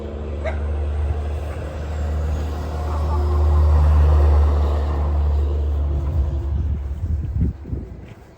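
A Matrix Nexa 4S pulls away, its low steady engine rumble holding close and loud, swelling midway and then fading with some rattling toward the end.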